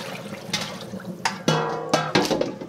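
Slightly boiled meat for Vietnamese pho being rinsed under running water: a tap gushes and splashes in several bursts, with sloshing liquid between them, close and moderately loud, with no talking.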